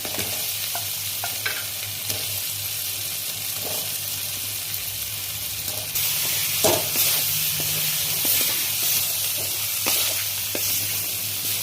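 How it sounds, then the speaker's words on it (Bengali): Potatoes tipped into frying spice paste in oil for a Bengali tilapia curry and stirred, a close sustained sizzle with repeated scraping spatula strokes, growing louder and busier once the potatoes go in. "এরপরে আলুগুলো দিয়ে দিচ্ছি আমি"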